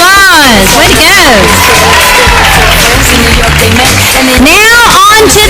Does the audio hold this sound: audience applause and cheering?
yes